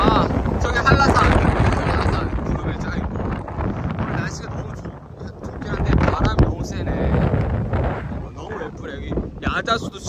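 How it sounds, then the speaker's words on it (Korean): Strong gusting wind the day after a typhoon on a seaside Olle trail near Tosan, Seogwipo, Jeju, buffeting loudly and roaring close to the microphone, with excited talk breaking in over it. "태풍이 지나간 다음 날에서 이제 엄청 바람 불어요."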